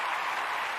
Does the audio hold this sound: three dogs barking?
no